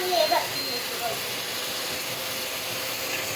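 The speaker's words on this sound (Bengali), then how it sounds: "জিরা রসুন বাটা দিয়ে মশলা কষিয়ে নিচ্ছি, চিংড়ি মাছটা সুন্দর করে কষিয়ে নিচ্ছি" Prawns frying in a pan with cumin and garlic paste, a steady soft sizzling hiss running throughout, with a few faint voices and clicks at the very start.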